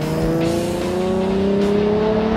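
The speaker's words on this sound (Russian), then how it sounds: "Автомобиль теперь не только притягивает взгляды, но еще и отпугивает всех своим страшным рокотом." A Ford Mustang V6 in full Shelby body kit with a modified exhaust gives a loud, close, steady engine rumble with a rising tone, no speech.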